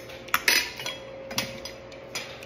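A spoon clinks against a plate of food in a few quick, light taps spread over a couple of seconds, close by with no talking.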